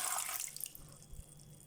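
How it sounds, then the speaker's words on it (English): Water poured into a sea moss mixture, a short splashing burst at the start that quickly fades into faint trickles and drips. "Okay, I'm going to add the 500 ml water."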